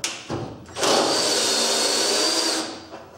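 A power drill on its first speed setting, working on a Lada Priora, whirs up sharply after a couple of short bursts. It holds a loud, steady high whine for about two seconds, then winds down, with no talk over it.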